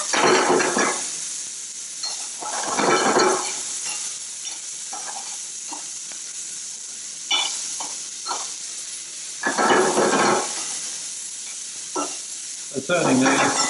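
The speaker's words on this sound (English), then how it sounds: "I can hear the sizzle there." Food frying in a hot non-stick pan, with sizzling bursts that swell and fade as the pieces are stirred and turned, plus occasional light utensil clinks between the louder sizzles.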